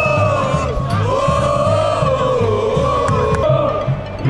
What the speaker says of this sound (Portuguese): a torcida já tá fazendo aquele barulho